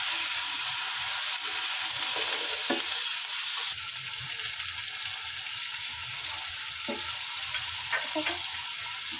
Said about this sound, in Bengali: পেঁয়াজটা এই সাদা ভাবে থাকা অবস্থাতেই আমি মশলাগুলো দিয়ে দিব,